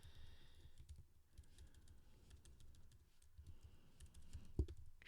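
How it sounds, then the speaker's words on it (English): Someone types a name on a computer keyboard in a quiet room, with soft, scattered keystroke clicks at moderate distance. "So type in their name."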